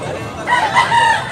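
Buyugon yellow tail rooster crowing at a Tabunok, Cebu chicken sale, a single short crow rising and holding over faint background noise.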